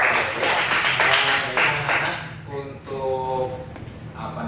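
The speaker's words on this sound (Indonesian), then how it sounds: "Kita tepuk tangan dulu biar semangat ya." A group of students claps hands during a classroom group counseling session, a burst of dense clapping at the start that fades as voices take over and people talk.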